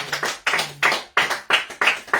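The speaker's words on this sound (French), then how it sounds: "Applaudissons une fois de plus le roi des rois." A church congregation applauds in short bursts of clapping, several sharp rounds close together with brief gaps between them and no voices over the top.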